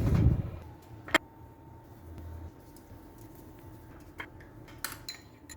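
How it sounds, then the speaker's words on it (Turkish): A baking tray of winter cookies slides into an oven set to 180 degrees, marked by a few sharp metallic clanks and knocks over a quiet background hum, with no voices. "Şimdi ilk yaptığımız tepsiyi gönderiyorum"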